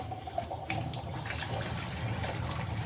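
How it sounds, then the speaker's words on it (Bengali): Lentils being rinsed under running water: a steady, close wash of flowing and splashing water that holds at an even level, with a small clink or slosh near the start. "ডালটা ধুয়ে নিচ্ছি।"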